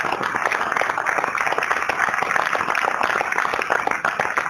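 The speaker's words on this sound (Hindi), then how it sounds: "सारे लोग इतनी जोरदार तालियों की गूंज होनी चाहिए" Students applaud at a university convocation ceremony, a dense, steady wash of many hands clapping that carries on evenly throughout, close and loud.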